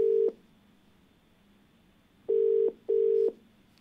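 Phone ringback tone while calling a TV call-in viewer, three short steady beeps: one at the start, then two close together after a pause, clear with no talk.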